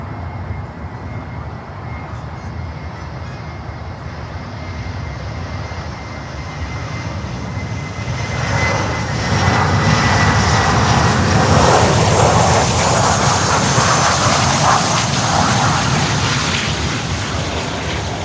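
A Boeing 737 jet of Eastern Air Express at Miami airport gives a steady broadband engine roar that swells louder about halfway through and holds, nearby and unbroken, with no talking.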